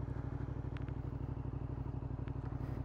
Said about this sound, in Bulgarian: двигателя е V2, V-образен двуцилиндров